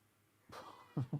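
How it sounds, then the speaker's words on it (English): A house cat meows twice in quick succession, fairly close and clear, after a brief stir of softer sound, with no talk over it. "You can't meow at me every time I talk."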